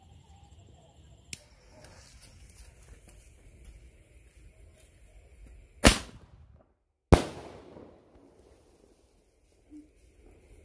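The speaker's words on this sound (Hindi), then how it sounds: "हमारा ये गुड लक का स्काई शॉट है जो कि येलो कलर का स्काई शॉट है" Two sharp blasts from a yellow sky shot firecracker a second apart ring out against a quiet outdoor background, each decaying with a crackling tail, plus a faint earlier pop.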